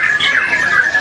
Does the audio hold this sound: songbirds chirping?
yes